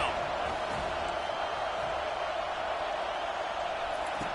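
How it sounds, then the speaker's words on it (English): A stadium crowd roars steadily during a college football video game on third down, a dense continuous wall of cheering that holds at a loud level; a commentator's voice may sit under it. "Decibels rising as the crowd gets behind this defense on third down."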